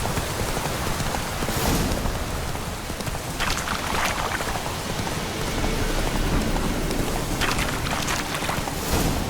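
Thunder from a lightning strike during rainfall in The Witcher 3 video game, a loud steady downpour with several rumbling cracks rolling through the storm; no speech.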